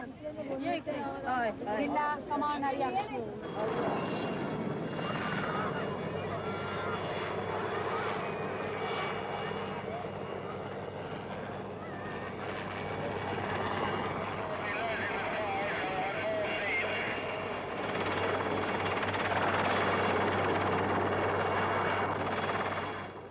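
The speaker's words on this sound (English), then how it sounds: "The helicopter will take off." A helicopter on a Gandhi film set near the shoreline keeps up a steady rotor and engine drone for the whole stretch, loud and continuous, while people talk over it.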